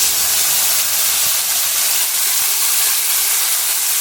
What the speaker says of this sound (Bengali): মশলা পুড়ে যাচ্ছে তাই অল্প জল দিয়ে দেবো